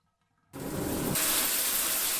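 Water gushes in the video game The Town of Light, starting abruptly after a short silence and turning into a loud, steady rushing flow like a running tap or shower that continues to the end.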